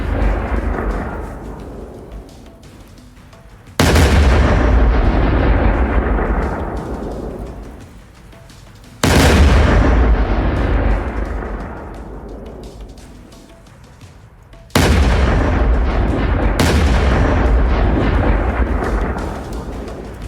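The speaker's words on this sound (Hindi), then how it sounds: "तो ये पूरा का पूरा गांव उड़ा दिया है इजराइल ने" Three massive blasts as a village in southern Lebanon is blown up in an Israeli strike, each a sudden booming crack that rolls away over several seconds into a long fading rumble, loud and with no voices.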